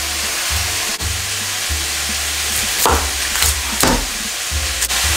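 Food fries in a pan while a home cook prepares dinner, a loud close sizzle running throughout, broken by a few scraping stirs of a utensil against the pan.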